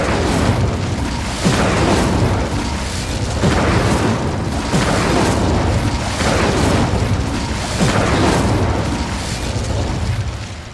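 An Incendio fire spell cast again and again in the Hogwarts Legacy video game. Each cast is a loud, booming, fiery burst, roughly every one to two seconds, over a steady roaring rush of flame.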